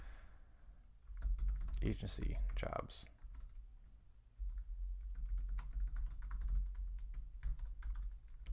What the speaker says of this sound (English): you'll hear me typing in the background